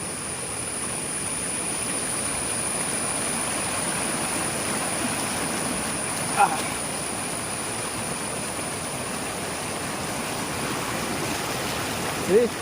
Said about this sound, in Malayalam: ഇവിടെ വെള്ളത്തിൻ്റെ നല്ല ഒഴുക്കുണ്ട് കേട്ടോ ശക്തമായ ഒഴുക്കാണ്